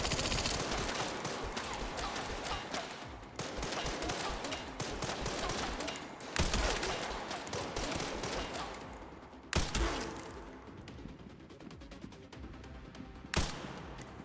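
Gunshots in the horror game Resident Evil Requiem: a steady barrage of loud, closely spaced shots, broken by a few sharper, heavier bangs and short pauses, with no speech over it.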